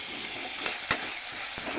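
Rice frying in ghee in a wok, giving a steady close sizzle with a brief sharp scrape of stirring midway and a fainter one near the end.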